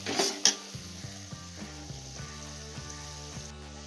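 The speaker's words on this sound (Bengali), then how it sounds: "রসুনটা আদাটা ভালো করে নাড়াতে থাকবো।" Garlic and ginger with tomatoes fry in a pan for an egg tadka, a steady soft sizzle beneath a run of light rhythmic scraping and clicking strokes from stirring, close and moderately quiet.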